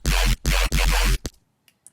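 Serum synth dubstep bass with no volume envelope: three loud, flat sustained bass notes with abrupt starts and stops, then a short final hit and near silence.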